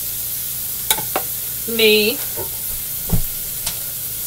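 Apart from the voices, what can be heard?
shrimps dropped into hot pan, sizzling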